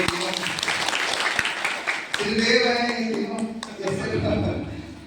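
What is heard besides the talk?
loud applause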